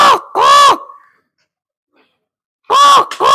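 A voice gives two loud, harsh crow-like caws, pauses in silence for over a second, then caws twice more, imitating a crow call.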